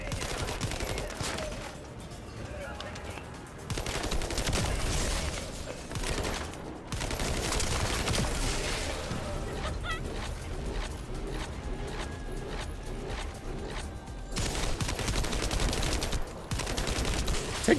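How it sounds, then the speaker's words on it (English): Rapid bursts of automatic gunfire from a gun in the shooter game The First Descendant, loud and sustained with brief pauses between volleys, mixed with mechanical clanks and whooshes. "It is a pretty goddamn good gun"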